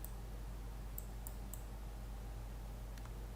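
Faint, sharp computer mouse clicks sound singly and in a quick pair over a low electrical hum at a desk, with no one talking.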